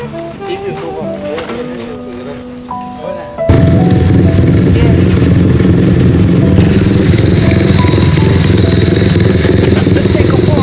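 A customized Honda Wave motorcycle idles quietly, then roars up loudly and keeps running with a steady, rough engine note as it is ridden around nearby.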